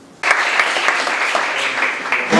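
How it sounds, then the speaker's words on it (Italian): An audience applauds at a hospital spinal unit in Catania during the handover of a fencing piste. Dense, steady clapping starts abruptly and continues fairly loud and close to the end, with no talk over it. "Un applauso ai ragazzi"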